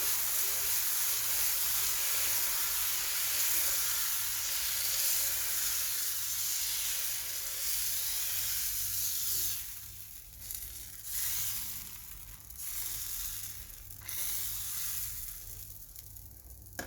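Batter hits a new cast iron pan being seasoned, giving a steady close hiss and sizzle that thins and becomes patchier after about nine seconds.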